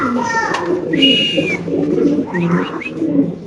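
White Bombay pigeons coo in low, throaty warbles throughout, with a few brighter chirps and some rustling mixed in close by.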